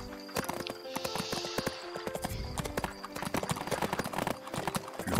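Horse hooves gallop in the Bibi und Tina video game, a rapid, rhythmic clip-clop of close, crisp hoofbeats that keeps going throughout, with a brief whinny-like tone near the start.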